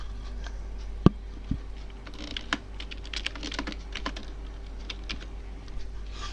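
Someone types on a computer keyboard, giving quiet, irregular clicking keystrokes close by over a low steady hum, with one sharper key press early on.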